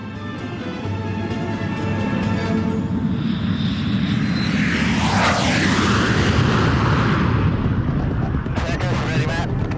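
A carrier aircraft's engines drone steadily in flight, loud and continuous, with a broad roar that swells midway as it carries a space plane slung beneath its fuselage.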